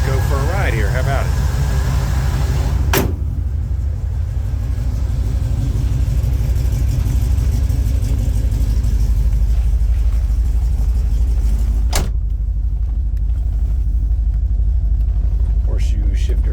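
A 1968 Chevrolet Chevelle SS with a numbers-matching 396 engine rumbles steadily as it drives, a loud continuous low drone from start to finish with a couple of sharp clicks, and a voice is heard talking over it.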